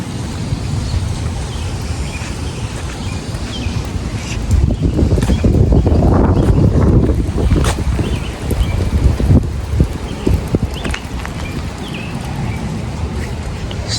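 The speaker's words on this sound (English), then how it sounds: "It's definitely windy and cold." Strong wind buffets the microphone outdoors on a cold day, a loud continuous rumbling roar that surges heavier midway, with no clear voices over it.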